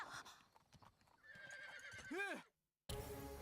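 A horse whinnies loudly with a descending, wavering neigh, layered over video game sounds and clip-clopping hooves, then a brief silence before busy noise returns.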